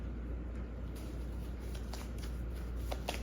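A deck of tarot cards is shuffled by hand, a soft, continuous papery riffle over a steady low background hum.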